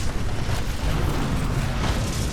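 Scorch's ultimate fire blast in Titanfall 2 erupts as a loud, sustained rumbling roar with crackling bursts layered on top, filling the whole short moment with no talk.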